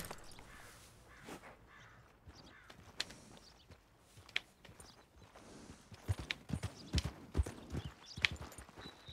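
Horse hooves clip-clop steadily on the ground in Red Dead Redemption 2, a loose walking rhythm of close, fairly quiet thuds that grows busier toward the end.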